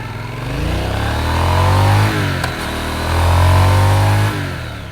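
A 2025 Triumph Speed Twin 1200 motorcycle pulling away hard, its engine note rising steadily through a gear, a brief dip at the change, then climbing again, loud and close.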